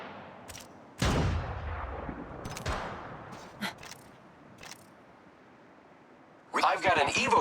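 Gunfire in the Apex Legends game during a sniper-and-pistol-only round, a few sharp, booming shots with rumbling tails spaced seconds apart, followed by a cluster of rapid shots at the end.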